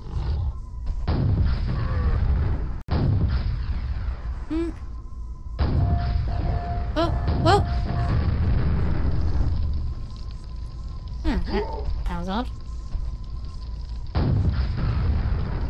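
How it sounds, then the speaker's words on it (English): Booming rocket launcher blasts and explosions from Quake II, loud and dense with roaring bursts, interrupted by brief gaps and scattered high electronic game effects over continuous in-game noise. "Don't mess with me when I have a rocket launcher."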